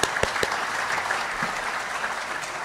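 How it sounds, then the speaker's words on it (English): An audience at a regional address gives a round of applause, a few sharp early claps swelling into steady continuous clapping. "Please, let's give His Excellency another round of applause."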